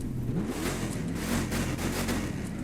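Ram 1500 TRX truck engine in The Crew 2 racing game revving steadily and loudly, a continuous mid-pitched roar with rising and falling tones and a whine layered on top, no talking.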